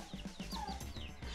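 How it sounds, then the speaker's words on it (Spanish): A hen clucks in short repeated bursts close by in a rural mountain setting, faint overall, with a few higher chirpy calls mixed in. "Gallina otra vez, gallina, hey, ándale"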